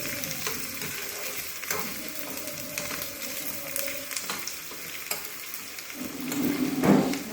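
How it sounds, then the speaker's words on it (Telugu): Onions fry in a pan with a continuous close sizzle and occasional stirring scrapes, growing a little louder toward the end, with no talk. "ఆనియన్స్ మట్టి బాగా దోరగా వేగితే దాని స్మెల్ దాని ఫ్లేవర్ బయటకు వస్తుంది అన్నమాట."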